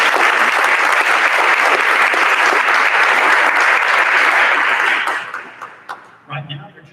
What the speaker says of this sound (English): Right now, they're just clapping